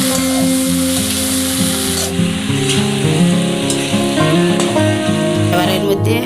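Green chilies added to a hot pan with ginger paste for a mixed-vegetable sambar sizzle loudly and continuously, a dense close crackle with no talking.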